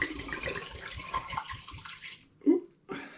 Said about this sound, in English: I'm going to pour some out now to take the gravity